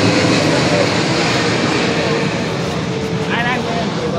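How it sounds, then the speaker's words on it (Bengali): Airplane passing overhead close to an airport, a loud steady jet-engine roar filling the whole clip with a broad constant rumble, voices faintly present beneath it. "এই বিমান এখনো যাচ্ছে একটা"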